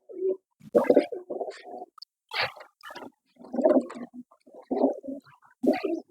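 Domestic pigeons coo in short, low, throaty bursts separated by pauses, close and fairly quiet, with a few brief flutters and scuffles between calls and no one speaking.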